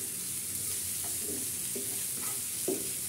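Onions frying in a pan give off a steady, quiet sizzle while a spatula stirs them in a few slow, scraping strokes roughly every second, heard close and without talk.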